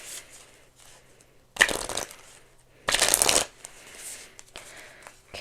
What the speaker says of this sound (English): I'm gonna shuffle out one advice card